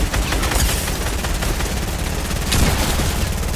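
Rapid bursts of gunfire in Fortnite, loud and close, with dense overlapping shots rattling continuously and a heavier burst near the end.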